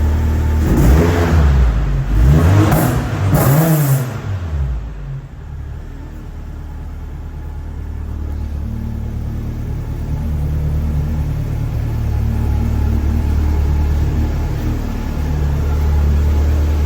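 A Toyota AE86 with a little 1.6 litre engine revs hard several times with rising and falling raspy sweeps, then settles into a steady low idle rumble that continues for the rest of the clip.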